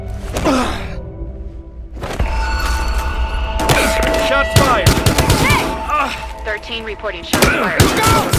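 Gunfire in Battlefield Hardline, a police shooter set in a school hallway: several sharp shots and thuds over steady game ambience and tones, with voices talking during the exchange.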